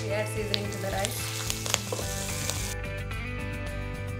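Turmeric powder and curry leaves sizzling in hot seasoning oil for lemon rice, a steady close crackle with a few brief clicks and no talking.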